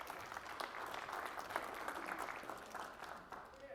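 An audience gives a short, steady round of applause at a live talk by a mental calculation performer, dense clapping that fills the space before easing slightly at the end.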